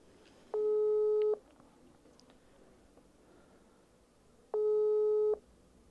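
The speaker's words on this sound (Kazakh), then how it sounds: "ошондо аты аталган мурдагы айыл өкмөтү Кылыч Тойчулуна байланышып көрмөкчүбүз" Telephone ringback tone heard while calling a former village head: two long, loud, steady beeps separated by a few seconds of quiet line hiss.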